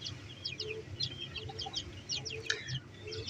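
Faint, high chirps from newly hatched chicks, a day old, repeat in quick bursts over a soft low background near their brooding hen.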